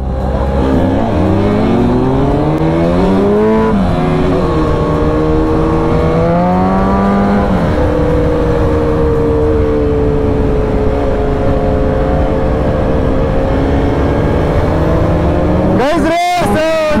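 Mahindra Thar SUVs racing on a road, with a loud, close engine drone that climbs and falls in pitch as the engine revs, and a sharp burst of revving near the end.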